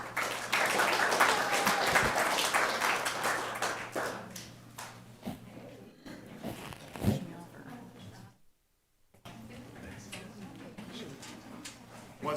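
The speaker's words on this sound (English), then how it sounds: "Once again, can we clap for all of them all as a combined group?" An audience at a city council meeting gives a burst of applause that fades after a few seconds. A low hum runs underneath, and a voice speaks briefly afterward.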